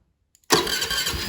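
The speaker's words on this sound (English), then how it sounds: "let's give her a start." A Honda Navi motorcycle fitted with a 90 jet, choke off, fires up after a couple of faint clicks, catching abruptly into a loud, close, rough mid-pitched engine note that holds steady.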